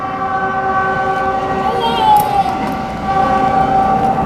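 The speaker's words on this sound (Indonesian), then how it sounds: "Itu kereta api tuh." A passing train rumbles loud and steady nearby while its horn holds long drawn tones that shift slightly in pitch.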